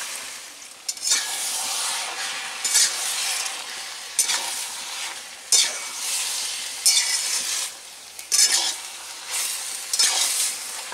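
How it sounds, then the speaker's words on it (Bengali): Banana stem and mixed vegetables sizzle loudly in a pan while a spatula stirs them in regular sweeping bursts about every second or so, close and clear with no talk. "কিছুটা সবজি ভাজা হওয়ার পর অল্প একটু সেই জলটা দিয়ে দেওয়া হচ্ছে"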